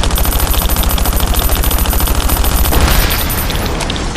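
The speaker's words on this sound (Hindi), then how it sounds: "जितनी बुलेट्स मेरे पास होगी उतने में तो ये गिर ही जाएगा" Rapid, loud automatic gunfire fills the scene in the survival video game Last Day Rules Survival as players shoot down a helicopter, a steady stream of shots with a heavier burst near the end.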